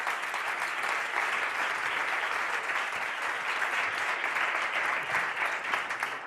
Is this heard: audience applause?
yes